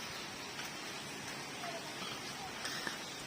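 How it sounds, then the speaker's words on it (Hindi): Steady rain hisses across the whole clip, a dense even patter with a few faint drops standing out, and no talking heard. "अल्लाह ताला ने बारिश भी बरसाई हुई है"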